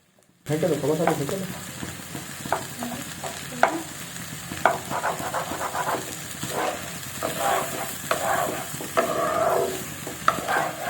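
Chowmein noodles frying in a pan while being stirred: a continuous loud sizzle with repeated clattering scrapes of the spatula against the metal, close up and steady for the whole stretch, with faint talk in the background.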